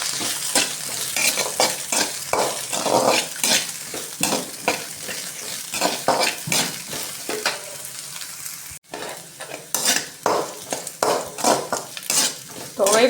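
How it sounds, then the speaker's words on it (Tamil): Pirandai (adamant creeper) is sautéed and fried in a generous amount of oil with a steady sizzle. A spatula scrapes and stirs against the pan in quick, repeated strokes, close and clear, with no talking. "எண்ணெய் கொஞ்சம் அதிகமாகவே போட்டு நல்லா வதக்கணும்"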